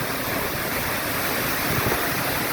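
Steady, loud rush of a falling waterfall near Baguio City fills the whole clip, a dense continuous roar with no pauses and no voices.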